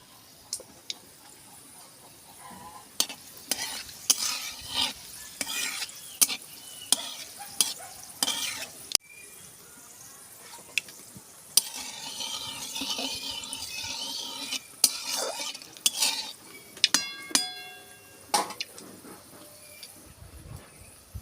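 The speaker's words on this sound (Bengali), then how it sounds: "দুটো শুকনো লঙ্কা ফোড়নে দেব।" Dried red chillies and coriander hit hot oil, giving a soft, steady sizzle under repeated sharp clicks and scrapes of a spoon stirring the pan, fairly close and quiet with no talk.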